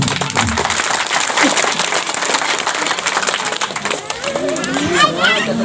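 A village gathering in Mandari, Bero, near Ranchi breaks into loud, busy clapping. Children's voices and other chatter mix in throughout.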